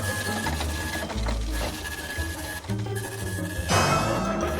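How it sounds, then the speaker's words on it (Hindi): A printer running steadily and loudly, with a mechanical whirring hum, repeated rhythmic feed cycles and short pauses, ending in a brighter burst of motor noise. "ओह नहीं, अभी भी प्रिंट हो रहा है।"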